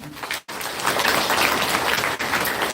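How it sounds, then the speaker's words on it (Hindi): A crowd applauds the guests at a religious gathering, a dense burst of clapping that cuts out briefly and then resumes loud and sustained to the end. "तो एक बार इनके लिए जोरदार तालियां।"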